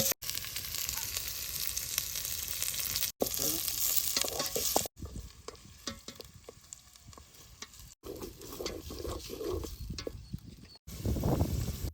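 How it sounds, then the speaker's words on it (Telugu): Onions fry in ghee in an outdoor village kitchen for chicken pulao, a steady, fairly quiet sizzle that continues through several cuts, with occasional stirring scrapes. "ఆనియన్స్ అయితే వేగుతున్నాయి అనమాట."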